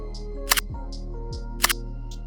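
Two distinct shutter clicks from a Sony camera, each a sharp mechanical snap about a second apart, close up over a faint steady electronic hum.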